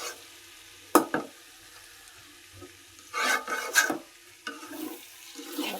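Bottle gourd and potatoes frying and being stirred in a pan, with soft sizzling broken by a few sharp scraping bursts of the spatula, close by and without talk.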